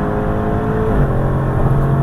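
A Mercedes GLC 43 SUV with a 3-liter turbo engine revs loudly up close, a dense continuous roar whose pitch rises and falls with the throttle.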